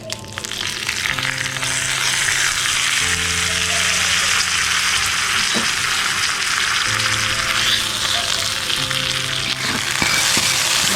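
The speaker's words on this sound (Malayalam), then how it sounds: "ഈ കടുക് വറുത്തതെല്ലാം കൂടെ നമ്മുടെ ഈ വെണ്ടയ്ക്ക തൈര് കറിയിലേക്ക് ഇട്ട് കൊടുക്കാം" Mustard seeds fried in oil for a tempering crackle and sizzle loudly and steadily as they are poured into an okra and curd curry, with a continuous dense hiss and no voices.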